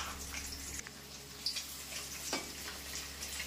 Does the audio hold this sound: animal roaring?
no